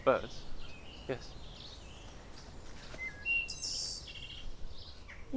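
Birds chirp in the woods at dusk, with scattered high tweets and short calls at a moderate distance over a quiet background, and a voice briefly speaking.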